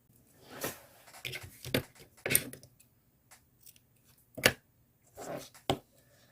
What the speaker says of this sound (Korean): 여기 부분은 좀 여유 있게 가위로 잘라 주세요.